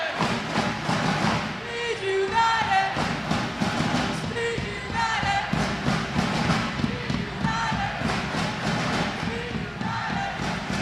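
Stadium crowd at a Baller League USA soccer match, Speed United versus Glitch FC, chanting and cheering in a steady, loud roar that swells and dips throughout.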